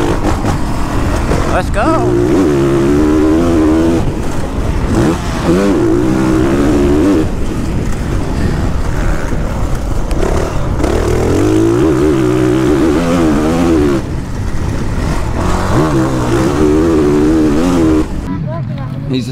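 A motocross dirt bike on a hot lap at Gale Common Moto Park. The engine revs loudly and continuously, rising and falling through the gears, with a rider's voice heard briefly over it.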